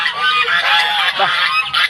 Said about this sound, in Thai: ไปดูห่านเนี่ยไปดูห่านไปอ๋อไป